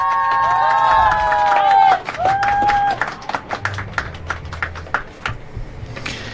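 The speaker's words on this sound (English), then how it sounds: "Maybe a bit of a premature clap there." Audience applause breaks out during a pool match after a shot along the rail, scattered claps continuing irregularly for several seconds behind a commentator's voice before tapering off.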